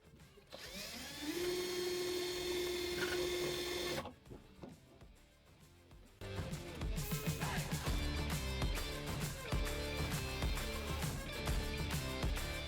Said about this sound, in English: there were so many holes to drill out